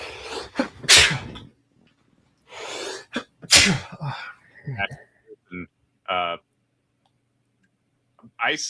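A sharp sneeze bursts out among short bits of nearby talk and small clicks, with quiet gaps between.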